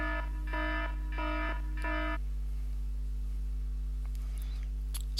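An iPad running iOS 6 sounds its clock timer alarm: three short bursts of a bright electronic ringtone, evenly spaced and close, then fading into quiet room noise with faint low hum.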